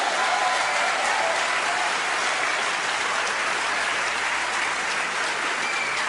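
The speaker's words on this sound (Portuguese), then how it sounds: "Você pode glorificar o Senhor e aplaudi-lo?" A church congregation claps steadily in sustained applause that fills the space at an even level from start to finish, a dense wash of hand claps with no break.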